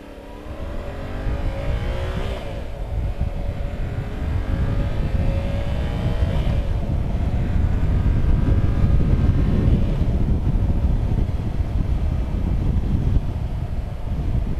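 A 2022 Yamaha R7 sport motorcycle pulls away on the road, its engine revving up through rising gear sweeps beneath steady, heavy wind rush, loud and close throughout.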